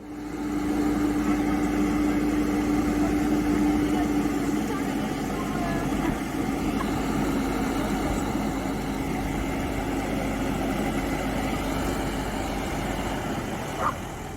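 A steady tractor engine idles throughout at a constant low rumble, loud and close, with no one speaking over it.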